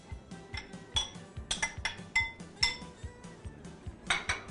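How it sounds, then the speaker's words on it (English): Celery tipped into minced onion in a wide-bottom 7-quart skillet, heard as a run of close clinks, taps and light scrapes of utensil against metal and dish, quiet between hits, with no voices. "now I'm adding all of that wonderful celery"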